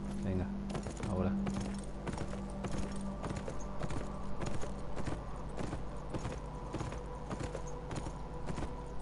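Horse hooves clip-clop at a steady walking rhythm in the video game Beyond: Two Souls, fairly close and continuous, layered with game music and background voices.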